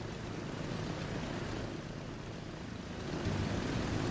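Airplanes take off in the Transport Fever video game, a dense, continuous broadband roar of jet and propeller noise that swells slightly toward the end, with no talking.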